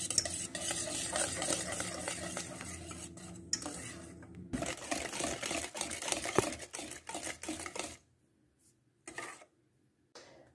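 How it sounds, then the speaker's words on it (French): Sugar and eggs are mixed for mini chocolate chip cakes, a busy, close whirring and clattering of beating in a bowl that runs steadily, then cuts off into near silence with a few brief bursts. "on mélange le sucre et les œufs"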